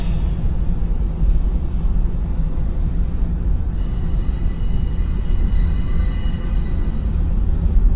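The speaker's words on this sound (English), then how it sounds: "Pacer stack train." A CSX double-stack freight train hauling Pacer stack containers rolls past in Cartersville, Georgia, a loud, constant heavy rumble and rattle of wagons with steady wheel noise and faint high squeals, continuing throughout with no talk.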